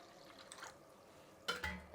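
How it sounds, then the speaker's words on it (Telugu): Water splashes into a bowl of spiced pani puri masala in a home kitchen, as a brief pair of sloshing pours near the end after a quiet start. "ఇప్పుడు దీంతో ఇంకా నీళ్ళు వేసుకుందామండి."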